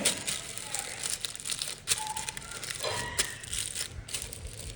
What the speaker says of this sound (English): Take a piece of baking paper, fold it in half, and just keep folding it in half.